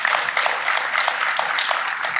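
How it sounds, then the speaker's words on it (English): An audience at a school district candidate forum claps in a fairly dense, steady patter, moderately loud and close, lasting a couple of seconds without speech. "I think we owe them all a round of applause for their."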